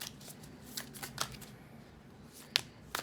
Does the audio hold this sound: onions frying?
no